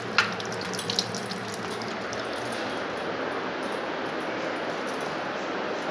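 Water poured and splashing in a steady stream while a small Gopal idol is bathed, a continuous soft wash with a few light clinks of a vessel near the start.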